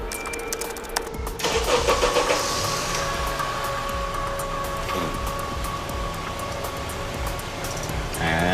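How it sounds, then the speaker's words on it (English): A car engine cranks and catches after a brief electronic beep, then settles into a steady mid-pitched idle with a faint whine, close and loud, running continuously without any talk. "You could start and stop the engine from the other side of the parking lot."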